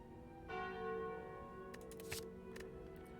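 A bell is clicked in a video game, one clear chime that swells and rings out with a long, resonant tail, followed by a few faint clicks, quiet and with no talking.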